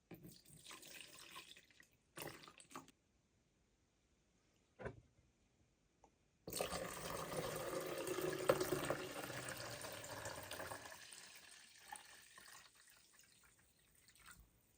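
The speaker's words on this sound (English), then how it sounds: "fill the water tank up to the level max" Water runs in short bursts into a DeLonghi Stilosa coffee machine's tank with descaler, then pours steadily for several seconds before trickling off, close by and fairly quiet, with no talking.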